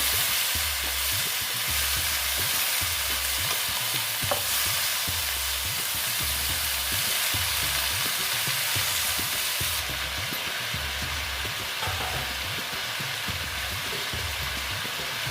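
Mixed vegetables fry in a pan over low heat for a vegetarian panchmishali sabji cooked without onion, a constant sizzle broken by repeated scraping strokes of a spatula in a steady rhythm, close and unaccompanied by voices.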